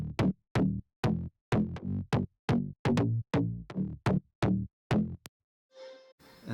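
A bright, punchy synth bass plays a quick rhythmic sequence of sharp-attack notes, clearly cutting through, with no talking.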